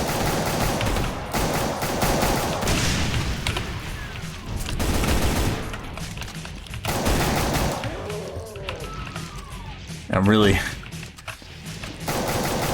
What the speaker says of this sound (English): I'm just using the pistol right now